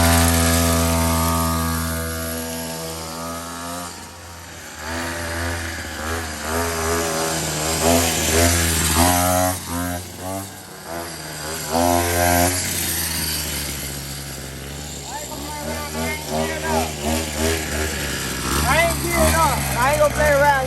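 A small 49cc dirt bike engine runs close by, its buzzing note rising and falling as the throttle is worked over about twenty seconds, with people talking loudly over it throughout.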